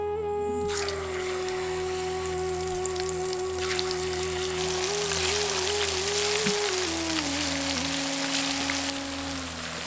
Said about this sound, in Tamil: இப்போ ஒரு சட்டியில எண்ணெயை ஊத்தி கறி உருண்டைய பொரிக்க ஆரம்பிச்சிடலாம்